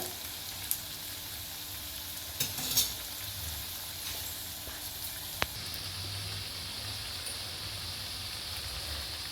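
Anjaneya vada batter frying in hot oil in a well-heated iron pan over low flame, a steady close sizzle and hiss with a few sharp clinks of a utensil against the pan.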